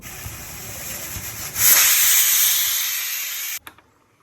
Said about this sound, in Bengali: মাছগুলো ভালো করে নুন হলুদ দিয়ে মাখিয়ে এখন ভেজে নিই